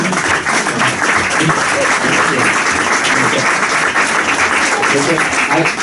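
An audience at a talk in Madrid breaks into steady, dense applause that fills the room loudly for several seconds.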